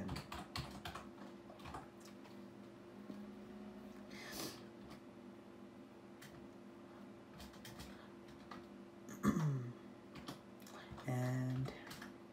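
Computer keyboard typing sounds close and soft, with irregular bursts of key clicks and quiet pauses between them, plus a few louder clacks and thumps near the end.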